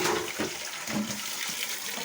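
Water gushes out of a toilet as the fill valve is removed, a steady close splashing and rushing flow lasting the whole short stretch.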